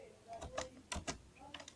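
A computer keyboard's keys are pressed in a quick scattering of soft close clicks, some doubled, at low volume.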